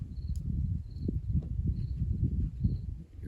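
Crickets chirp at a campsite in short, evenly spaced trills, faint and distant, over a louder low rumble of wind and nearby movement.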